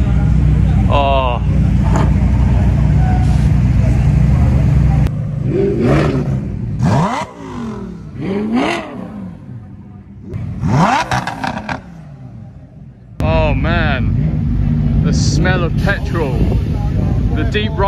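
Loud supercar engines rev and roar nearby on a runway at Supercar Fest 2022, rising and falling in pitch as cars accelerate past one after another, with a person talking briefly.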